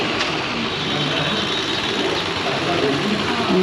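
A small scooter engine idles steadily up close, a constant low rumble throughout with no breaks.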